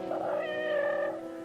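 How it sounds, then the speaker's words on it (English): A cat gives a single drawn-out, tonal meow lasting just over a second, close and clear, with no voices over it. "That's a good kitty."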